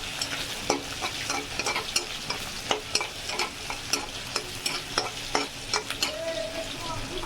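Chopped radish frying in fish oil in a pan, with a soft continuous sizzle and regular close scraping strokes of a spatula stirring it, at moderate level with no talk.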